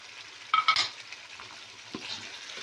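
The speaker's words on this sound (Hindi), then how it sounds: "इसके अंदर डालूंगी टमाटर।" Chopped tomatoes dropped into a pan of frying ginger-garlic paste for a turnip and chicken curry, giving a brief clatter and scrape of stirring over a soft steady sizzle, fairly quiet and close.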